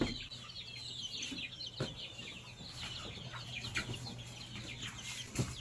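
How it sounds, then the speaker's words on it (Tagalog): Chickens being moved into a grower pen on a farm cluck in a steady, busy chorus, several birds close by, with soft scratching and shuffling under the calls. "Ito nga mga manok."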